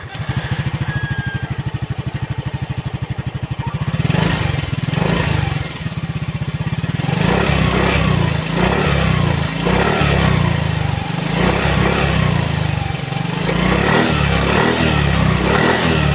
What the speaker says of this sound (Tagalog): sound check tayo mga master, no, kung gaano katahimik tong motorsiklo na to.